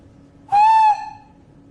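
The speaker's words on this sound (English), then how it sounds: "I will whistle for you." One clear, steady whistled tone from a person, held for about half a second at a bright pitch, loud and alone, then fading into a faint room hum.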